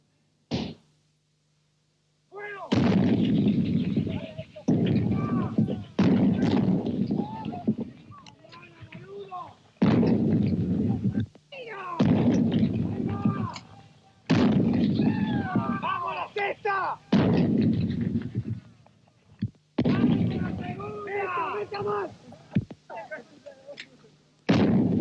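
Artillery fire during the Falklands War: repeated heavy booming blasts and sharp reports in irregular bursts, loud and near, with talk mixed in between the shots.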